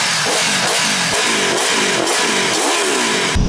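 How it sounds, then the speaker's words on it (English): An Aprilia Tuono V4 1100 motorcycle engine revs repeatedly in quick, rising blips, loud and close, with no voices over it. "At least this, you can hear that V4 engine on it"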